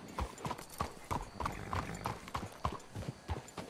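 Horse hooves clip-clop in a steady, even rhythm, several horses walking close by in Red Dead Redemption 2, with faint voices occasionally underneath.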